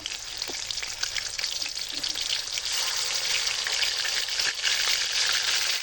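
Duck pieces sauté in hot oil with ground cumin, garlic paste and spice powders, giving a steady, loud broadband sizzle throughout with occasional soft clicks of stirring and no voices.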